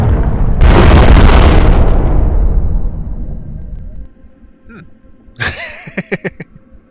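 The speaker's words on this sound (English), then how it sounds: "flashbang please" A flashbang goes off in a video game with a loud, long boom that fades over several seconds, followed by a few sharp clicks and pops.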